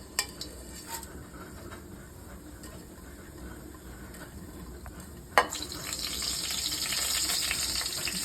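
Whole spices and dried red chillies tempering in hot oil for a palak moong dal dish, a low sizzle that bursts louder and brighter partway through as more go into the pan, with a few sharp crackles and a steady hiss after.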